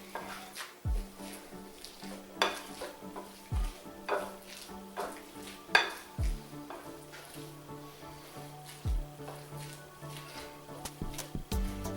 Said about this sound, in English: I'll probably end up mixing it up with my spoon a little bit.